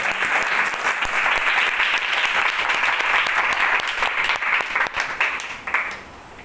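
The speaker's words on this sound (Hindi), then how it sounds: "हम लोग जोर से ताली मारेंगे" Congregants at a Hindi-speaking church service clap hard together in a sustained, crowded burst of applause that holds steady, then thins into a few scattered claps and fades out.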